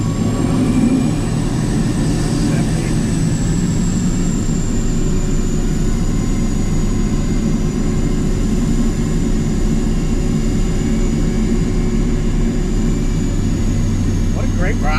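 Jet-turbine-powered Chevrolet Camaro winding down from high RPM, a loud, steady turbine whine with a high tone that slowly falls, over a heavy low roar throughout.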